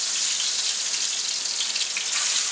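Marinated oxtails sizzle and fry in hot vegetable oil in a pan on an electric stove, a steady, dense crackling hiss that holds close and loud throughout without any talk.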